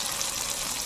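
Spice paste of poppy seed, cashew, ginger and green chillies with tomato and salt, frying in oil in a pan for okra curry, giving a brief, steady, close sizzle with no talk.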